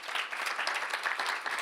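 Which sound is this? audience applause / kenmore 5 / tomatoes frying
audience applause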